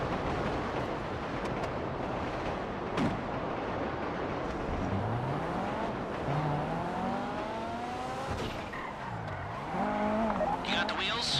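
A car in a video game heist, the Fleeca Job, drives hard, its engine revving and rising in pitch while the tires squeal through turns, a sustained racing roar with sweeping pitch glides, overlaid by faint background voices.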